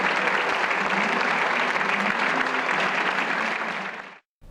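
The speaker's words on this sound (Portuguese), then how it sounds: "todos que estavam na capela aplaudiram numa última homenagem" Mourners in a funeral chapel give a last round of sustained applause before a cremation, a dense even wash of clapping that fades and stops abruptly at the end.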